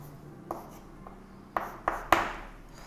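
Marker or chalk strokes on a classroom board as a maths teacher writes an axis label: several short taps and scratches, the last ones louder and closer together.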